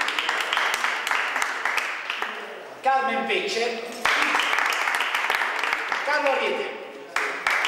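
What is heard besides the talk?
applause for studio guests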